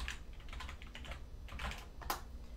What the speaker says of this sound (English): So we'll type in Matt's email here